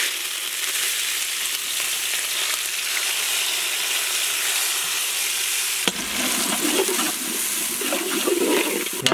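Finely chopped shallots fry with curry leaves and fennel in a pan for a kadaknath chicken gravy, making a loud, steady, close sizzle throughout with one sharp click partway through.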